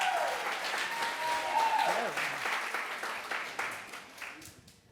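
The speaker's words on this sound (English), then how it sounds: "And also a round of applause for Lily." Audience applause fills a storytelling slam event, steady dense clapping from a crowd with a voice speaking over the start, then the clapping thins and fades away.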